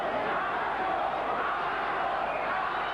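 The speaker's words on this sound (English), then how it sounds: "The crowd yelling macho for Aranda" Boxing arena crowd at a WBA world featherweight title fight chanting "macho" for Pascual Aranda, a dense continuous roar of many voices with rising and falling chant, steady and loud throughout.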